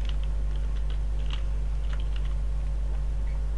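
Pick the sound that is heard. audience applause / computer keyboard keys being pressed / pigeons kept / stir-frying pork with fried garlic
computer keyboard keys being pressed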